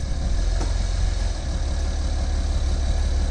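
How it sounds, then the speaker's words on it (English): A tractor engine runs close by with a loud, low, steady chugging throb, a slight dip in the drone partway through, with no talk over it. "Oh, listen to that tractor go."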